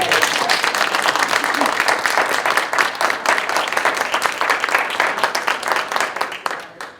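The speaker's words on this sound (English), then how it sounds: "think this deserves a round of applause" A room full of people applauds at a school committee meeting, with dense, steady clapping that stays loud for the whole stretch before tapering slightly at the end.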